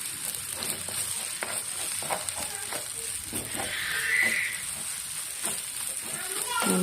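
Egg with drumstick leaves is stirred and scrambled in a pan, a soft steady sizzle broken by scraping strokes of the spatula, with a louder hissing burst midway.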